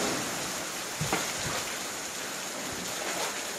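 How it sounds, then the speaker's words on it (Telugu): Heavy rain pours down on a rainy day, a dense, steady wash of noise that stays fairly even throughout, with a few faint knocks and no voices. "వర్షం చూసి ఎట్లా కొడుతుందో జోరు దంపుకుంటాను ఇలా"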